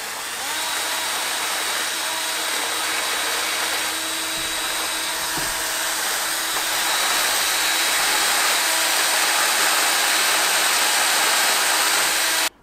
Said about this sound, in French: je vais légèrement préparer le support à l'aide d'une perceuse et d'une pierre à poncer